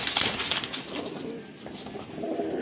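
Damascene pigeons coo in a low, soft, rolling rhythm, close by and fairly quiet against a steady background hiss. No one speaks.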